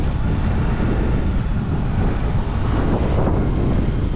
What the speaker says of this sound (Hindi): क्या मस्त ठंडी ठंडी हवा चल रही है